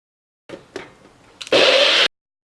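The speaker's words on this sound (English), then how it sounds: "start blending down some of these ingredients, okay? So let's start blending." Blender whirring through oranges and other drink ingredients for a weight-loss smoothie, a couple of short pulses and then a loud, steady high-pitched grind for about half a second before cutting off.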